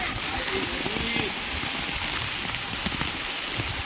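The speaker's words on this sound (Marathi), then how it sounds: "बघा किती पाणी पडतंय एवढा पाऊस पडतोय" Heavy rain pours down with a dense, hissing rush of water running off nearby fields, steady and loud throughout.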